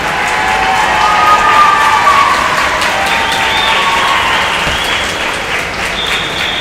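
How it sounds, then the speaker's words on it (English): Swimmers and coaches cheer and applaud at an indoor swim meet finals, a loud, steady wash of crowd noise with clapping and shouts sustained throughout. "All of her fellow swimmers and coaches are cheering her on as she enters this last moment."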